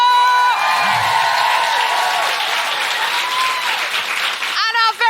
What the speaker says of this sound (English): A huge round of applause for my co-pilot Sophie Duker!